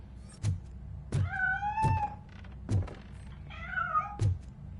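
A cat in RoboCop: Rogue City gives two drawn-out meows between a series of dull thunks and knocks, fairly quiet against a hushed background.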